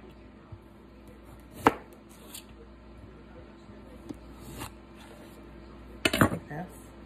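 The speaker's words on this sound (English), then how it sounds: "just going to cut the ends off and just slice them really thin." A few sparse knife strokes against a cutting board as radishes are sliced thin, with isolated crisp chops and a short cluster of quick cuts near the end over a quiet room.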